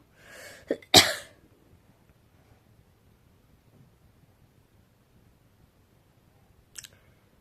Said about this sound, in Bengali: এত কাশি হচ্ছে আমি ভিডিও আর করতে পারিনি